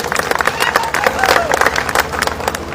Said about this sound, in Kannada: 4-5 ತಾಸುಗಳಿಂದ ಕುಂತಾರಲ್ಲ ಅವ್ರಿಗೊಂದು ಜೋರು ಚಪ್ಪಾಳೆ ಬಿಡ್ರಿ ವೇದಿಕೆ ಮ್ಯಾಗಿದ್ದವ್ರು